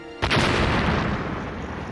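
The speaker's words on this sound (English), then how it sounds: "two massive explosions seconds apart ripped through Port Chicago" Massive explosions at the Port Chicago naval munitions depot in 1944 erupt as one loud, sudden boom that swells into a long, rumbling roar and slowly fades, with no voices.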